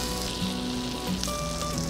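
Scallops sizzle in a frying pan with a steady, close crackling hiss that fills the whole short stretch without pause.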